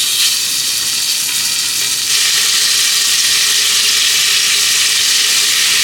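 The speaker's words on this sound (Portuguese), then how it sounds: "A panela já tá bem quente, vou colocar os pedaços da carne um a um." Beef pieces hit a very hot pan and fry with a loud, dense, continuous sizzle that flares up sharply about two seconds in and then holds steady, close by, with no talking.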